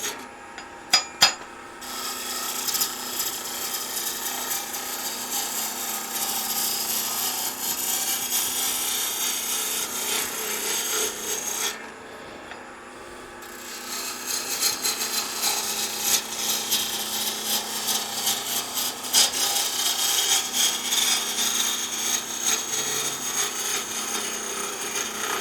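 Wooden tree being tapered on a wood lathe from headstock toward tailstock, the turning tool producing a continuous, close, rough scraping and rasping that drops out briefly partway through before resuming.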